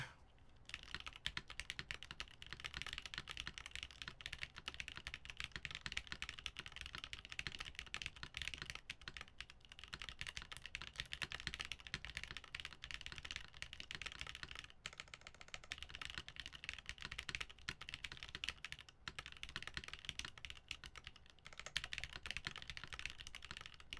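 Continuous fast typing on an Electrotype 60 stacked acrylic keyboard with Canon Keys chocolate toffee linear switches, TX UXL springs and GMK Dune keycaps, with a smooth, dense patter of muted keystrokes close by and no talking.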